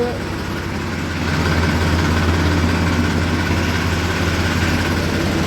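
A Ford tractor engine idles with a steady, low diesel drone that holds close and even throughout, with no other sounds over it.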